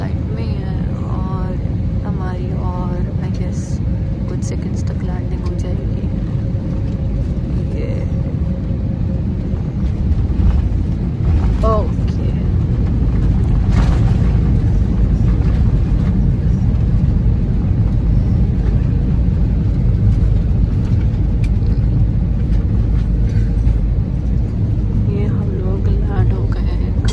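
A passenger jet on final approach to Kuwait airport, heard from inside the cabin as a steady loud engine and airflow roar with wind buffeting, while someone talks over it.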